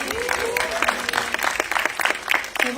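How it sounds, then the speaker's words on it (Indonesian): An audience applauds at a press conference for the Indonesian film Alas Roban, giving a short burst of scattered, fairly close clapping mixed with voices calling out. "Tepuk tangan buat Bu Hadra"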